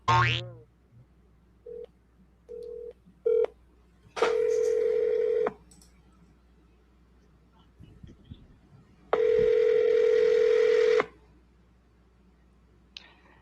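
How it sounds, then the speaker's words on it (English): A telephone dials a call: a few short button tones come first, then two long, loud steady tones with quiet gaps between them, and no voices in between. "Let's get somebody on the phone."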